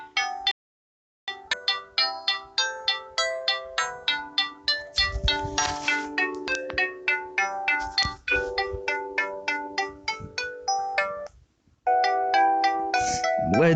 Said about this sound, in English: Samsung Ringtones,